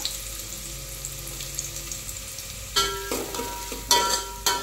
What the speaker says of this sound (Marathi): तर इथे माझं तेल तापलेलं आहे. मी कांदा चिरून घेतलेला आहे आणि आता आपण मस्तपैकी कांदा भाजून घेऊया.